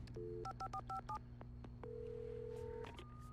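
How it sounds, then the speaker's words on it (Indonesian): A telephone in the Alan Wake video game sounds a quick run of push-button dialing beeps, then a long steady tone and a few more beeps, all quiet and electronic. "Oh, telepon."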